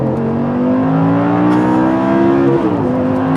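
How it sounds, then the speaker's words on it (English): Audi R8 V10 coupe engine revving steadily with a loud, continuous harmonic drone that climbs gradually in pitch, then dips and rises again near the end, heard alone without talk. "the full noise of that V10 engine"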